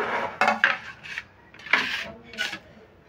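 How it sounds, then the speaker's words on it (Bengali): A raw carrot rubbed against a small hand grater, a handful of short rasping strokes with brief pauses between them, close and fairly loud, with no speech. "গাজরটা কিন্তু কাঁচা, এটা কোনো সেদ্ধ করিনি, এটাকেও আমি গ্রেট করে নেব"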